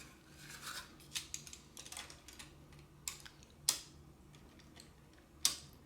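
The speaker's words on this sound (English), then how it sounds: "you can hear the bolt clicking onto the magnet" A 12mm machine bolt on a Bruder CAT telehandler model boom clicks onto a magnet, giving a few sharp, light clicks spaced apart over faint background noise, with the loudest snaps near the end.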